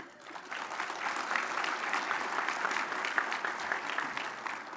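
A large audience of over a thousand attendees at a transportation summit's opening session claps, swelling quickly into steady, dense applause that holds for several seconds.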